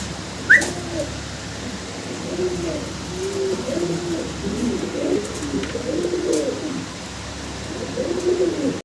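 Fancy pigeons cooing in a steady run of soft, low, throaty calls, close and continuous over a faint background hiss, with a brief whistle early on and no talk.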